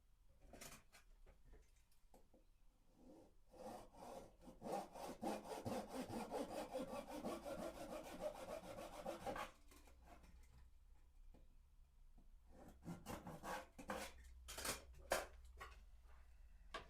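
A handsaw cuts through wood during an acoustic guitar build, with steady back-and-forth rasping strokes for several seconds before stopping, followed by scattered taps and handling noise, close and fairly quiet.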